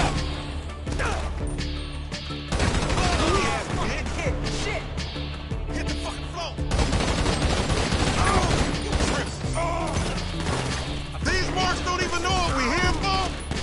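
Video game gunfire on a PS4 crackles in dense, rapid bursts and heavy impacts across the whole stretch, loud and chaotic, with scattered voices mixed underneath.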